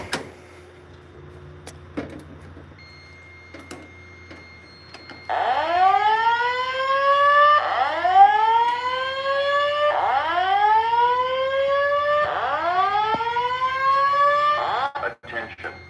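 A building fire alarm system sounds a loud whooping siren, four rising sweeps in steady succession, each climbing in pitch and repeating, after a quieter stretch with faint clicks and room sounds.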